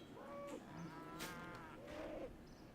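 Cows in the video game Runescape let out two drawn-out moos, one after the other, with a soft bright chime between them over a quiet steady background.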